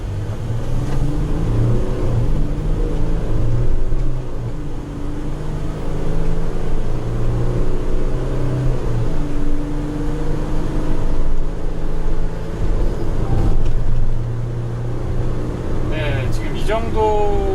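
A Mercedes-Benz Sprinter van accelerating from zero to 100 km/h, heard from inside as a loud, steady engine drone rising through the gears, with someone talking over it throughout.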